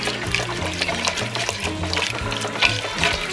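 Heavy cream is poured and whisked into an Alfredo sauce in a pan, making a wet sloshing pour with soft irregular whisk clinks and swirls, close and moderately loud.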